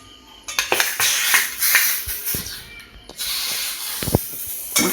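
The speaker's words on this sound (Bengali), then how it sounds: "মাছটা ভেজে নেবো।" Bhetki fish frying in hot white oil in a kadai, giving a steady sizzling hiss broken by clinks of a utensil against the pan.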